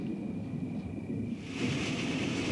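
Rain pours with a deep rumble of thunder, a soft hiss that swells into a fuller, louder wash halfway through.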